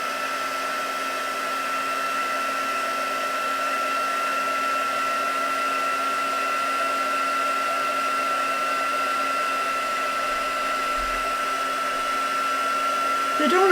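A dryer blows steadily over freshly made craft pieces, a loud continuous whine with a constant tonal hum that runs unbroken throughout and swells slightly right at the end.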